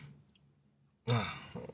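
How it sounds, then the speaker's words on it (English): A man clears his throat once, close and fairly loud, after a stretch of near silence with only a faint low hum. "Clear my throat real quick"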